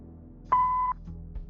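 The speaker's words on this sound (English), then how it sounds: "if you leave your details after the beep, I'll get back to you" A single steady electronic answering-machine beep from the Kathy Rain 2 video game sounds clearly for under half a second, surrounded by a quiet low hum.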